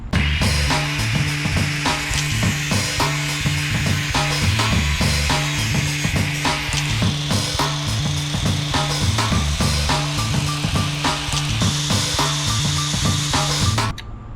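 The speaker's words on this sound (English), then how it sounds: "what I'm going to do is shorten the end of my tool a little bit" A lathe tool being shortened gives a loud, steady mechanical grinding and ratcheting with a repeating low rhythmic pulse and bright high-pitched scraping throughout, unbroken and without talk.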